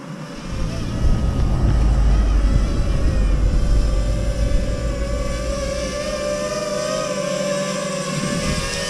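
A DJI FPV drone flies and comes in to land, its steady motor whine and whirring propeller buzz running loud and close throughout, with a deep rumble underneath.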